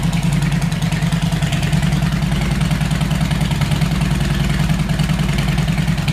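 A 2005 Harley-Davidson FLHT motorcycle engine runs steadily at a loping idle, its rhythmic pulsing exhaust loud and close throughout with no talking.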